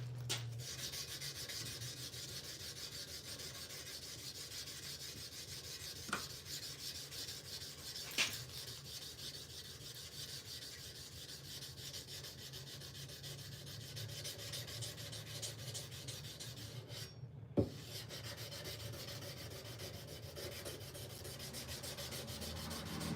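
Quiet, steady scraping of a sanding stick rubbing back and forth, close by, with a few faint clicks and taps.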